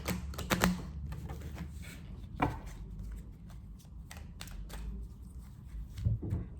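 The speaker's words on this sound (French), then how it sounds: "On va mélanger les cartes." A deck of tarot cards being shuffled by hand: quiet, irregular clicks and flicks of card edges, with a few sharper slaps, close and soft.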